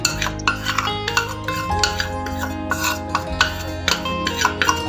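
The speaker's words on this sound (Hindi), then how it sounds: "इसको हम मिक्स करेंगे" A spoon scrapes and clinks against a metal bowl while tandoori chicken marinade is mixed with cornflour, giving a steady run of close, rhythmic clatters and stirs over a faint musical background.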